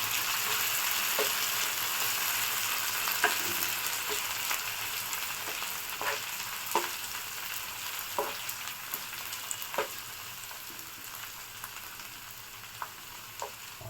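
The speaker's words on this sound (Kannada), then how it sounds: "ಹಸಿ ವಾಸನೆ ಹೋಗೋವರೆಗೂ ಚೆನ್ನಾಗಿ ಫ್ರೈ ಮಾಡ್ಕೊಳ್ಳಿ" Masala frying in oil for a dhaba-style egg curry, a steady close sizzle throughout with scattered sharp spatters and occasional spoon scrapes against the pan, with no talk.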